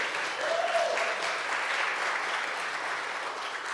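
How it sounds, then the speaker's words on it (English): A town hall gathering at a church hall claps steadily for a few seconds. The applause is even and moderately distant, with a brief voice rising faintly above it. "And everyone clap for Dory."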